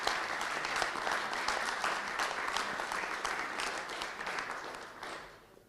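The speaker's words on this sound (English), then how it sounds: "Another round of applause." Applause from a panel-discussion audience at a conference on war in the digital age, dense steady clapping filling the room for several seconds before tapering off at the end.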